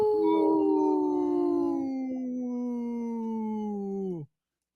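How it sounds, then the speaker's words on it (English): A single long wolf howl holds a steady, slightly falling tone for about four seconds and then cuts off sharply, close and clear, with no talk over it. "That is a Friday howl if I ever heard one."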